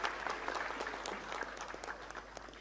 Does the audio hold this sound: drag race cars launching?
no